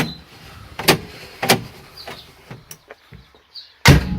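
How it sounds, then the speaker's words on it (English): Doors on a 1966 Corvair Model 500 four-door hardtop with no door post shut in turn, several distinct solid thumps spread over a few seconds, fairly close with quiet gaps between them. "All the doors shut perfect."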